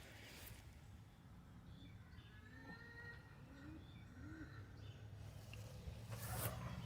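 Soft pigeon coos repeat a few times over a faint outdoor garden background, with other birds chirping quietly nearby.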